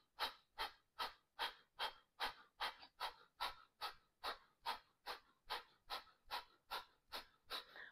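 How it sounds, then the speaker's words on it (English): Forceful yoga breathing out through the nose comes as a steady series of about twenty quick, sharp puffs at an even brisk rhythm, close and faint, with no talk. "So you're really pressing outwards with the breath out the nose."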